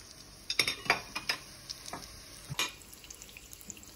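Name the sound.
corn tortillas frying in oil in a pan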